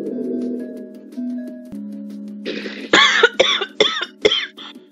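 A person coughs in a rapid run of about five harsh, close bursts, following a stretch of steady game music tones, with no speech.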